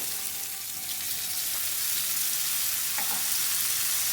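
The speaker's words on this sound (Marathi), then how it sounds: "दुधामध्ये आता डिंक थोडा शिजू देते, असं हलवत राहायचं" Edible gum (dink) simmers in milk in a pan while being stirred, a steady close sizzle and bubbling with a few faint scrapes of the spoon.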